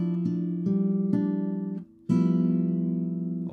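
Classical nylon-string guitar plays bar 3 of a Julio Sagreras beginner lesson: a few plucked chords, thumb and fingers together, each ringing before the next, with a short gap before the last sustained chord; no talking.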